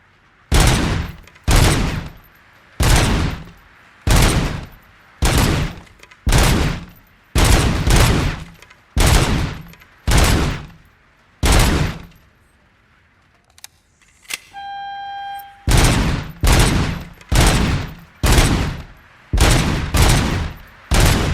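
Gunfire in a shooting-gallery range in the video game Robocop Rogue City: loud, close, evenly spaced single shots in a steady rhythm, a short pause with a bright electronic chime, then the shots resume.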